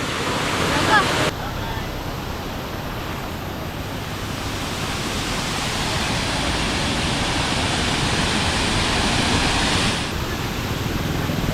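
A waterfall near Lonavala pours beside a path in a steady, dense rush, loud and unbroken for the whole stretch with no voices standing out.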